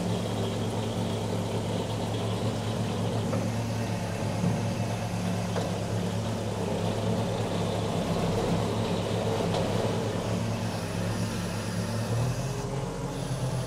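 A home-built small front loader with hydrostatic drive and chain-driven axles runs steadily, its engine giving a continuous low drone with a strong low hum and broadband mechanical noise that holds even throughout, with a slight shift near the end.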